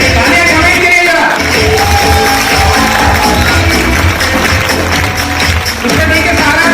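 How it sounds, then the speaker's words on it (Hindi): A crowd at a company event cheers, whoops and shouts loudly and continuously, blended with loud music through the whole stretch. "तालियां कमाई के लिए जरा"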